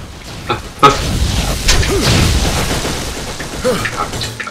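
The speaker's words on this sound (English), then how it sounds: "I may have just blown myself up." A video game explosion from Borderlands: a booming blast near the one-second mark, followed by lighter in-game effects and a voice rising over the action.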